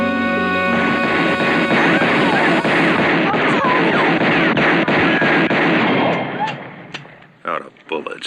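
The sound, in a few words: gunfire in a video game shootout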